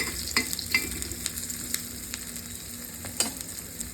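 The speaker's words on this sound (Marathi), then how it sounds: "थोडंसं अद्रक पण परतून घेऊया." Ginger sautéing in a pan for amti, a steady close sizzle and frying hiss broken by occasional sharp clicks and scrapes of stirring, with no talking.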